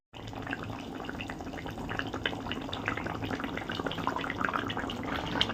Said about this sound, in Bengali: এদিকে শাকটাকে ভালো করে ধোবো ভালো করে ধুয়ে তারপর কেটে নেব